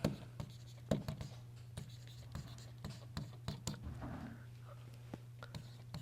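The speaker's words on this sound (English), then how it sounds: "Then we're going to write our atomic mass formula." Pen or marker writing out a chemistry formula during an atomic mass lecture, a series of close scratchy strokes and taps with brief pauses over a steady low electrical hum.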